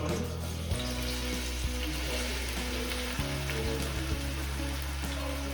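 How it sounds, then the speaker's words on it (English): Sliced onion sautés in a good amount of hot oil, giving a loud, continuous close sizzle with a steady hiss and low hum underneath, no voices. "And we will saute until translucent."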